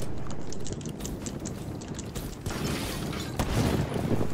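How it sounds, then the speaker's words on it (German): Video game gunfire fired at the player, dense bursts of shots and booms over steady background noise and clicking, fairly loud and continuous. "Boah, er schießt mich an."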